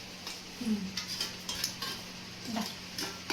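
Karanji filling is stirred in a bowl, with soft, scattered scraping and clinking of a spoon over a faint background hum.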